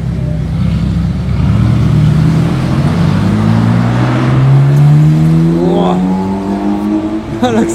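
A car accelerates hard, its engine note climbing steadily in pitch as it revs up, loud and close throughout.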